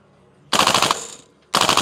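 A VFC airsoft rifle fires on full auto at close range in two rapid bursts of sharp, crackling shots, the first about three-quarters of a second long and the second starting a second later.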